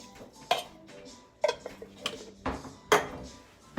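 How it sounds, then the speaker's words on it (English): A can of Rotel tomatoes goes into a pot of cabbage roll soup with a few light metallic clinks and taps spread out at irregular intervals, close but quiet, with faint kitchen noise between them. "adding my can of Rotel."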